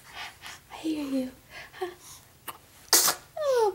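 A baby makes soft cooing and whimpering sounds, then lets out a sudden sharp sneeze, followed by more little vocal noises.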